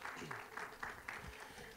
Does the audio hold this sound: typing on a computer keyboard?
no